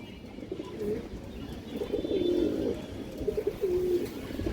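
A ring-eyed pigeon coos in low, throaty, rolling phrases, repeating several times over steady background noise.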